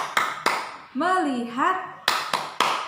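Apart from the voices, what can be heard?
children clapping together in a clap chant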